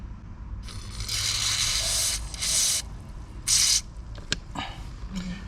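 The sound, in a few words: spraying Fluid Film lubricant onto a blower motor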